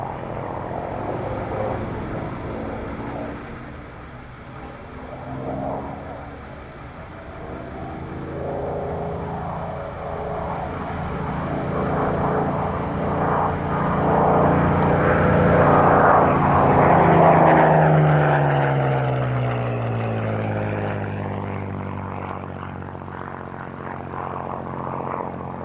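A two-seater Spitfire propeller aircraft, converted by Vickers, flies past at the Duxford airshow, its engine droning and swelling as it approaches, then shifting down in pitch as it passes overhead and away.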